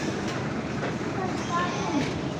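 An underground train moves in a Rome station as passengers disembark and connect. It makes a steady, broad rumble with some faint clatter, and people talk over it nearby.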